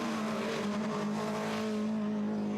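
TVR Challenge racing cars at Castle Combe or Oulton Park in wet conditions, a steady engine drone with hissing spray from the wet track, heard at moderate distance.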